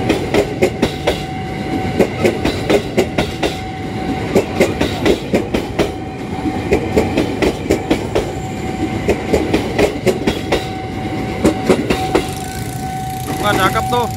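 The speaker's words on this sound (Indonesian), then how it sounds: "Ada kereta JR 205 New Livery." JR 205 commuter train passing close on rails near Angke station in Jakarta, loud rhythmic clickety-clack of wheels over rail joints with a steady rumble and some squeal toward the end, with talk over it.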